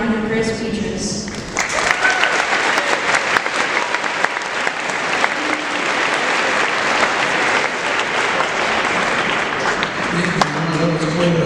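Sustained audience applause fills a Veterans Day school assembly hall welcoming a historian, a dense crowd clapping for several seconds after a brief spoken introduction, with a voice returning at the end.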